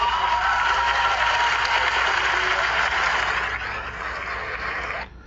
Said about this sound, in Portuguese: A galerinha, moçada, aplaude qualquer coisa.